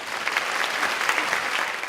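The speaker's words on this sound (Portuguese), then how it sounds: "O público todo dispara em palmas após a canção proposta por Geni." An audience at a talk-show event applauds after a song, a full, even burst of many hands clapping throughout, steady and fairly loud.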